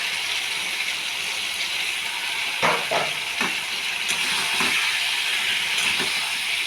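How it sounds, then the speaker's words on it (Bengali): Fried potatoes dropped into a hot pan of cooking liquid, giving a loud continuous sizzle and hiss with a few brief clatters of stirring midway through. "ভাজা আলুটা ছেড়ে দিচ্ছি"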